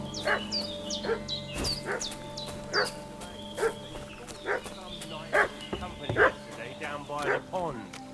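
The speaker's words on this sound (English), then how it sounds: "What's that dog making such a fuss about?" A dog in the medieval video game Kingdom Come Deliverance 2 barks repeatedly in a steady series of sharp yaps at moderate distance, with a voice talking in the background.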